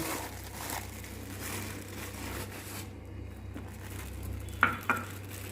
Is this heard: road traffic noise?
no